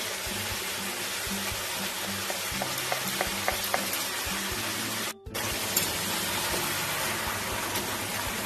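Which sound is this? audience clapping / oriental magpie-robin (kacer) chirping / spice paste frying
spice paste frying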